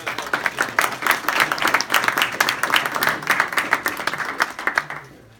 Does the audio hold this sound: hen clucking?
no